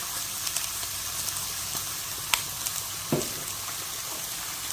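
Green pepper, onion, carrot, cilantro and garlic frying in a pan, a soft steady sizzle with a few light clicks of a utensil against the pan.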